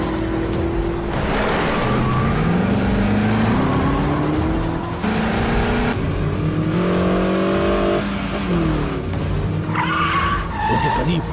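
A car driven fast in a chase, engine revving and rising in pitch through several gear pulls, with tires skidding and squealing, loud and close, over urgent voices.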